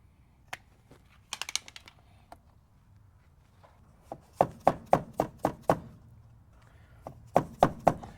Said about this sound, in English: We're going to cut this off to the proper length